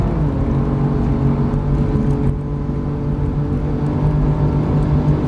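A BMW M4 GTS engine pulls hard at full throttle on the Nürburgring Nordschleife, a loud, steady onboard drone with a strong tonal hum that holds without a break, then dips slightly around a shift before carrying on.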